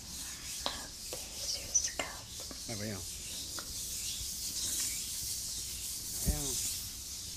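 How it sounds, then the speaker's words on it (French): A woman rubs her hands together in an ASMR recording, giving soft, close, continuous friction and scraping sounds, with faint whispering and brief vocal noises mixed in. "C'est cette fille qui, tout simplement, se frotte les mains."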